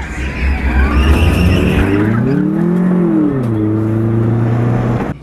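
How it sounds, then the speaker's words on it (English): A race car revs and its tires squeal hard through a turn during a 20-lap figure-eight race, with a loud, continuous engine note that climbs and falls close by. "We go green, 20 laps of figure eight racing."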